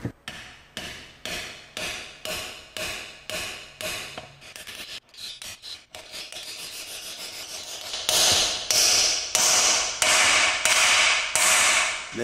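Repeated sharp metallic hammer blows driving a sleeve into a car transmission, about a dozen in steady rhythm, close and loud, then a denser, brighter pounding toward the end.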